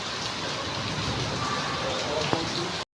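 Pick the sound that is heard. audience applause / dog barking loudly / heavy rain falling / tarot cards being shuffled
heavy rain falling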